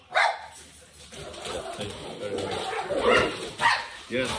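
A Great Dane and a Corgi barking and yipping indoors in several short bursts, with a person talking over and between the barks.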